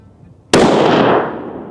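A single loud unsuppressed rifle shot, such as a 6.5 Creedmoor or .338 Lapua Magnum, cracks sharply and rolls off in a long decaying boom after a quiet start.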